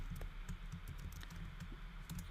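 Rapid, light keystrokes clatter on a computer keyboard as C++ code is typed, close and quiet, in quick irregular bursts with no voices.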